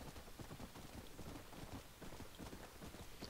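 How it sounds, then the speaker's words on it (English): Galloping horse hooves from Red Dead Redemption: Undead Nightmare drum in a quick, even rhythm, soft and steady across the short stretch with no voices. "I'm sick to death of this bloody horse!"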